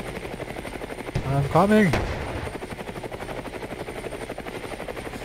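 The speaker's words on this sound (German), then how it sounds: "mit dem Helikopter kann ich fliegen." A helicopter in the video game Brick Rigs flies with a steady, continuous rotor drone, fairly close and level throughout, while a voice briefly shouts over it.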